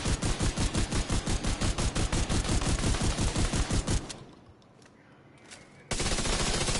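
Rapid automatic gunfire from a shotgun in The Division 2 on PS5, a dense loud rhythmic burst of shots lasting about four seconds, then a brief lull before another loud blast of firing.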